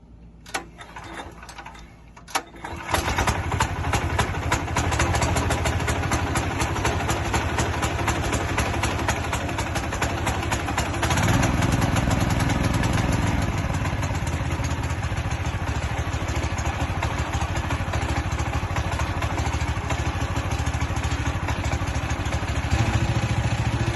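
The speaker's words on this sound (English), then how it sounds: "we are going to try to start this motor for the first time since I have put it on the" A DuroMax go-kart motor that has sat unused for a year cranks briefly, then catches and settles into a steady, loud, close putter of rapid ticking combustion that continues without letup.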